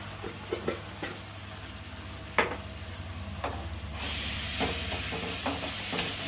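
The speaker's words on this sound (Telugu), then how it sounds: "అల్లం పసుపు అన్నీ మంచిగా గోలాలి." Ginger paste and turmeric stirred in a pan for Telugu-style fish curry, with a few spoon scrapes over a steady sizzle that grows louder and brighter partway through.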